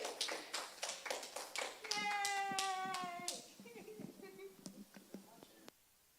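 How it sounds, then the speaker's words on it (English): A small gathering applauds a pastor's wife with scattered, uneven hand claps and taps, close and fairly faint. A voice rises over the clapping partway through, and the claps thin out toward the end. "You guys give a round of applause."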